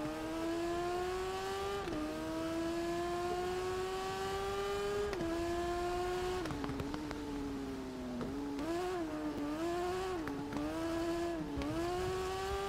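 A motorcycle engine in the TT Isle of Man racing video game, a loud, continuous high-pitched whine that climbs steadily and then drops sharply at each gear shift, with quicker rev dips and rises toward the end.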